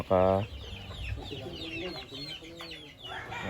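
Gamefowl chickens on a farm cluck close by, with a loud squawk at the start and further scattered clucks after it, and a person speaking faintly in the background.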